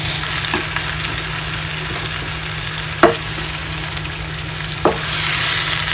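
Chicken cooks in a pan over a low flame with a soft, steady sizzle under a constant low hum, broken by a couple of sharp utensil clicks as it is stirred.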